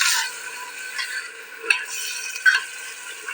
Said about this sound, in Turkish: Mercimeğini katıp mercimeğinle de şöyle bir güzel kavuracağım.